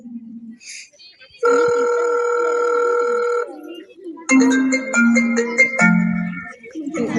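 A telephone ringtone plays loudly in a teacher-themed scene, a steady tone for about two seconds, then a melodic run of rising and falling notes with a low hum, near and clear, with no talk over it.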